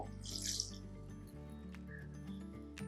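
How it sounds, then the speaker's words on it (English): Water is poured into cold cucumber soup, a brief splashing trickle near the start that gives way to a low, fainter liquid sound and a few small clinks. "we add some water"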